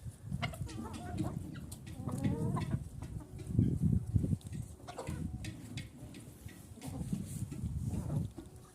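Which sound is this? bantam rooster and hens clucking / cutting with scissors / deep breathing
bantam rooster and hens clucking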